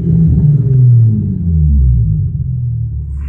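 Infiniti G35 coupe with a six-speed manual and a new Kinetix intake manifold, idling steadily just after startup: a deep, even low rumble with no sputter, fairly loud and with nobody talking.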